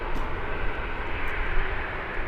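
A Qatar Airways airliner arriving at Birmingham airport, its engines giving a steady, broad roar with no break, fairly close and unbroken by voices.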